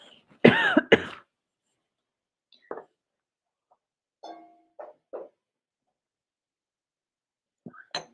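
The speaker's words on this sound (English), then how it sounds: "I've got a cough for a second, excuse me" A couple of sharp coughs up close, followed by a few softer throat sounds and small noises with silent gaps between them.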